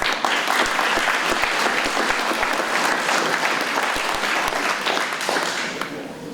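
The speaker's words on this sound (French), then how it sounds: "Alors on peut les applaudir très fort." A crowd applauds the organizers at an agricultural fair in Saint-André-les-Alpes, with sustained, dense clapping that stays loud throughout and tapers slightly at the end.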